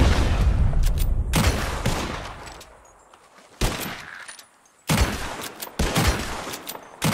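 Bursts of gunfire ring out in the Western video game Red Dead Redemption 2, loud clustered volleys of several shots separated by brief quieter gaps, with no talking.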